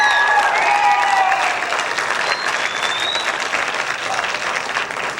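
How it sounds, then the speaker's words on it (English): An audience claps loudly and steadily for a high school jazz band at its spring concert, with a few whistles rising above the applause near the start. The clapping eases slightly toward the end. "Would you give them another round of applause?"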